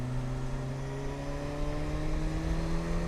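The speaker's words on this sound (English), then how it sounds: "I open throttle and this thing just wants to go" Kawasaki Versys 1000 SE motorcycle engine pulling hard under acceleration, a steady loud drone with rising harmonic tones as it climbs through the gears via quick shifter, continuous and close with rushing wind noise.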